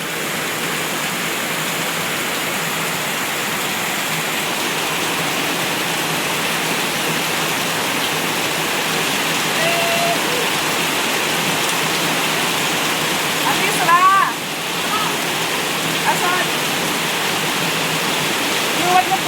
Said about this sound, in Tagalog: biglang lumakas pa lalo yung ulan